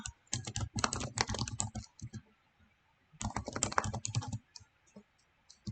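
Typing on a computer keyboard: two close bursts of quick clattering keystrokes separated by a short pause, with a few scattered single taps, and no talk.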